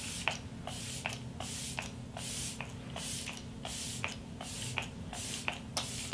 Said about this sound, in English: I'm just gonna mist my face.